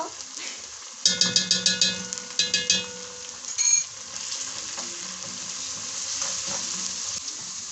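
Beans simmer in a pan with paprika for a coconut bean dish. A run of close, rhythmic metallic clinks like a spoon against the pan comes first, then a steady, soft sizzle and bubbling carries on alone.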